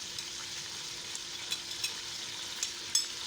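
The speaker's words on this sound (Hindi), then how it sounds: "अब इसमें मैं ये मसाले डाल दूंगी।" Spices hitting beef jalfrezi in a hot pan, a steady close sizzle and crackle with small stirring scrapes and pops throughout, no voices.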